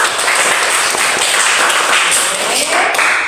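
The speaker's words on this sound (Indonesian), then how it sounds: "tepuk tangan sekali lagi untuk kelompok 3" Loud, close classroom applause for student group 3, many hands clapping densely and evenly throughout.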